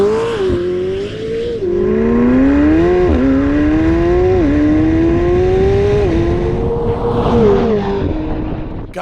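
A 2024 McLaren 750S supercar drives hard with a loud close engine note rising through the revs, dropping at upshifts and climbing again, heard alone without talk.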